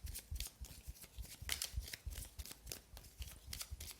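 Tarot cards are drawn and laid out during a love reading: a steady run of soft papery slaps, slides and flicks, close and fairly quiet, with no voice over them.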